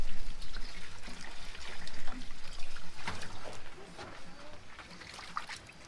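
Bananas being rinsed with water outdoors while cooking, a continuous trickle and splash of running water with faint handling knocks, close and moderately quiet throughout.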